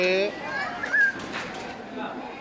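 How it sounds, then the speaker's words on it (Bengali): Jalali pigeons at the Shahjalal shrine in Sylhet give soft calls amid the open courtyard's ambience, with someone talking over them and children faintly audible. "জ্বালালে যে কবুতরগুলো আছে সেই কবুতরগুলো ধান দেওয়া এখানে দেখুন"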